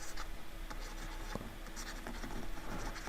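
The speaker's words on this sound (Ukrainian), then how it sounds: "Так от буду писати." Chalk or marker scratches on a board during an algebra lesson on quadratic inequalities, with quick, close strokes and taps in short bursts over a steady background hiss.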